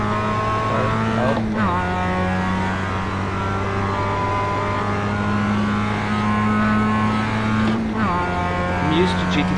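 A Mazda MX-5 Cup race car in iRacing drones at steady high revs, with two sharp gear shifts that drop and then recover the engine note. A driver's voice can be heard faintly over the engine.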